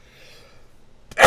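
A single sharp sneeze bursts out at the very end, close and loud, after a soft intake of breath.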